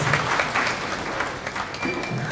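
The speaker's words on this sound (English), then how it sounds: "If you could please clap our hands for him" Steady applause from a conference audience at a media and information literacy event in Matabeleland, a dense even patter of many hands filling the whole stretch without a break.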